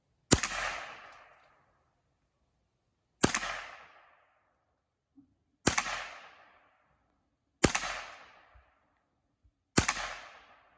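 Five sharp rimfire rifle shots with 40 grain ammunition crack out at slow, roughly even intervals, each loud and close with a short decaying tail, and no talking between them.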